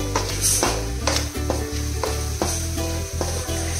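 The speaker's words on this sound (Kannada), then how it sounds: "ಇದನ್ನು ಇವಾಗ ಸ್ವಲ್ಪ ಫ್ರೈ ಮಾಡ್ಕೊಳ್ಬೇಕು." Masala rice with jaggery sizzling and frying in a pan, with repeated stirring scrapes over a constant loud crackle, close up.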